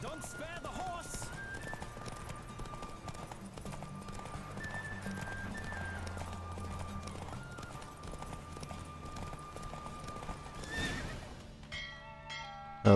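A horse gallops and neighs during a race in the video game The Witcher 3, with steady hoofbeats throughout, a whinny near the end, and a voice talking over parts of it.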